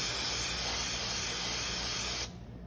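Brake cleaner sprayed onto the carburetor float bowls of a 1973 Honda SL350 motorcycle, a loud continuous aerosol hiss lasting about two seconds before cutting off abruptly.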